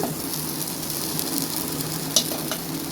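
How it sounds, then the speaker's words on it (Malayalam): Green chillies and curry leaves frying in a pan for egg curry, a steady loud sizzle with soft stirring scrapes and one sharp clink against the pan, no speech. "കുറച്ച് കറിവേപ്പില, ഇതെല്ലാം കൂടി ഇട്ട് കൊടുക്കും. എന്നിട്ട് ഒന്നുകൂടെ നന്നായിട്ട് വഴറ്റാം."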